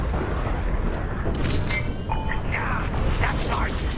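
Starfighter weapon fire in Star Wars Squadrons, with a steady run of blasts and zapping, laser-like sweeps in a dense space dogfight, loud and continuous throughout.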